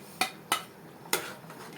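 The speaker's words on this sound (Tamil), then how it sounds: "இந்த ஸ்டேஜில் நம்ம வறுத்து வச்சுருக்க பன்னீரை உள்ளே தட்டிடலாங்க" Fried paneer tipped from a container into gravy in a pan: three sharp metallic taps and clinks, spaced unevenly, against a low background hiss.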